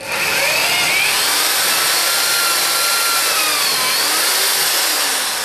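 A power drill bores a hole through a piece of wood with a steady, loud, continuous whir close by, with no talk over it.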